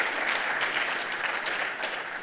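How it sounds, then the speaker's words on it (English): Dense, continuous applause from an audience at a security talk, a steady wash of many hands clapping together, moderately loud and sustained throughout without speech. "This usually gets a round of applause."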